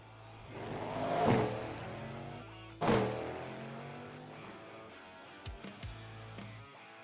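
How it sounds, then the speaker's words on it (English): Race car engines, including a Cadillac GTP, in the iRacing IMSA video game roar past twice, each a rising then falling high-pitched whine, followed by quieter gear-shift blips fading out. "Gotta love that sound of the Cadillac GTP as it fires up and as it flies by"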